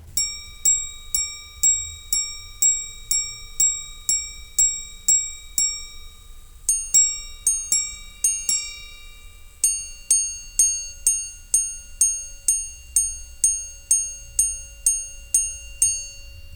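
A minute repeater watch chimes the home time, ringing clear bright strikes in even sequences, a run of single tones, then a short cluster of paired tones, then another long run, delicate and close with no voices.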